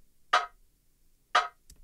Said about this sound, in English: This rim shot.